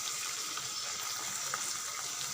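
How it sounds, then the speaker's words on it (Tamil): Water pouring over tamarind in a bowl to soak it, a steady, close splashing trickle that runs continuously without pause and with no talking. "தண்ணி ஊற்றி ஊற வச்சுருங்க."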